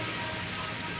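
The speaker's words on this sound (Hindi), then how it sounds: "अभी फ़िलहाल पूरा बारिश ही हो रहा है हर जगह।" Steady rain falling everywhere outside a home, a dense, continuous hiss of drops on surfaces with no pause, even and fairly loud across the brief moment.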